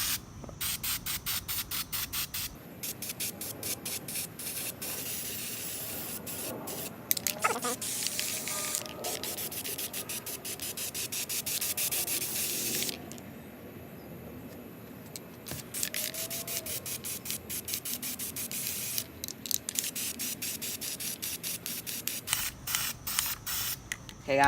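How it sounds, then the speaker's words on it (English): Spray paint hisses from an aerosol can onto a stencil camouflage in repeated short bursts, with a longer continuous spray in the middle, close and fairly quiet. "Now I think it might be time to spray paint"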